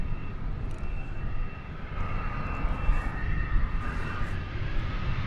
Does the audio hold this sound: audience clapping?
no